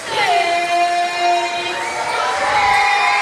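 Crowd at a high school basketball game, Bunker Eagles against South Iron, cheering loudly with shrill sustained shouts and whoops, close and continuous.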